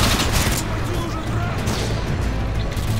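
Dense, continuous gunfire and a booming grenade blast in the video game Modern Warfare 2 Special Ops, loud and sustained with heavy low rumble throughout.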